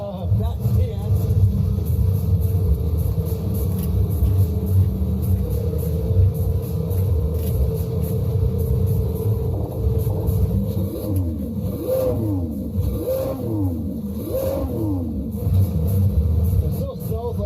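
Lamborghini Huracan engine rumbling steadily at close range with a few quick rising revs near the end, under people talking throughout.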